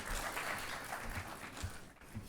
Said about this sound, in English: Yeah, please, applaud.